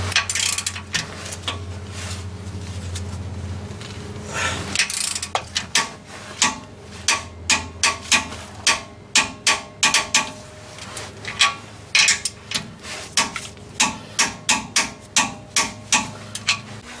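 A ratchet tightens the U-bolt nuts of a TRD rear sway bar on a 2007-or-later Toyota Tundra, first as a low mechanical hum, then as a steady run of sharp, evenly spaced clicks close by with no talking.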